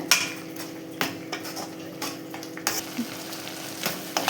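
A carrot and jaggery syrup mixture cooks in a pan, a steady close sizzle broken by regular sharp clinks and scrapes of a spoon stirring against the metal, with no talking.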